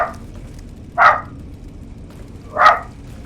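A dog in the video game Fallout New Vegas gives two sharp, separate barks about a second and a half apart against a faint background hiss, with the tail of an earlier bark at the start.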